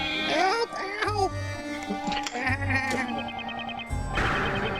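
A goat in the Professor Layton vs Phoenix Wright game bleats several times in quick wavering cries, close and loud, mixed with game music and other voices.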